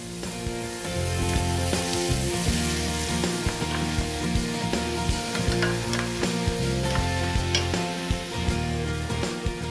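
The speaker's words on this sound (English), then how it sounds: "I'm going to add these right to the saute pan with the onions." Chopped vegetables sizzle with onions in a sauté pan, a loud continuous frying hiss with busy stirring scrapes and small crackles running throughout, close by and without any talking.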